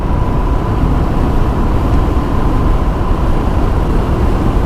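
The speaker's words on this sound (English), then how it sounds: "just purring along, not much of a tone coming from the exhaust really" A Harley-Davidson M8 Sport Glide engine idles with a stock exhaust, a loud, steady, even low drone close by, holding without change and no one talking.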